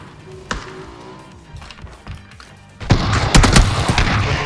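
Gunfire in the video game PUBG: a few scattered sharp shots early on, then a dense burst of loud rapid firing and booms in the second half.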